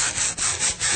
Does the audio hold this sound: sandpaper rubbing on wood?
yes